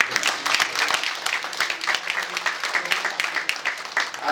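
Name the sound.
banquet audience applause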